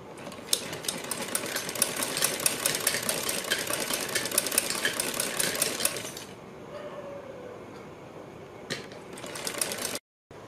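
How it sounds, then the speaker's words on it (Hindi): A sewing machine stitches the fabric of a kurti neck with a rapid, steady mechanical chatter for about six seconds. It stops, a quieter pause follows, and then a brief burst of stitching comes near the end. "तब यहाँ से हम सिलाई लगाएंगे।"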